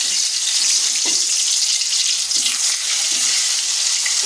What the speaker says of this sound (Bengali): ওই তেলের মধ্যে আলুগুলোকে ভেজে নিচ্ছি